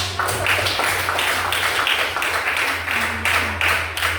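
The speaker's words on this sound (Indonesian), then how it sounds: "Tepuk tangan." A classroom of pupils claps their hands in a fairly regular rhythm of close, crisp claps over a low background hum.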